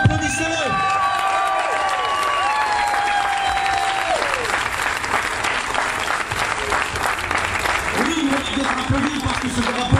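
A large crowd applauds and cheers as a flag is raised at a public ceremony, dense sustained clapping with whoops. A speaker's voice and brief tones sound at the start, and voices rise again near the end.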